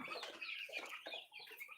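A chicken, one of a flock of white roosters, gives short clucking calls, faint and close, with no talk over it.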